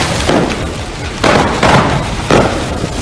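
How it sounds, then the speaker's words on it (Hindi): Firecrackers burst at a burning fireworks factory, several heavy booms and cracks spaced a second or so apart over a continuous roaring background. "वहां से आतिशबाजी की आवाज के साथ पटाखों से निकल रही चिंगारियां लगातार बाहर आती दिखी"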